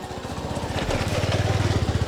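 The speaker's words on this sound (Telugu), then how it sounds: "చూస్తున్నారు కదా, బైక్స్ అయితే వస్తూనే ఉన్నాయి" Motorcycles ride up the road to Kalu Waterfalls in Malshej Ghat, and a close engine grows louder with a throbbing, rattling putter, with no talk heard.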